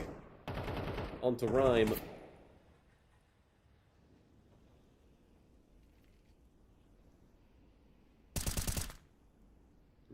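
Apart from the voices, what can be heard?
gunfire from a video game during an entry frag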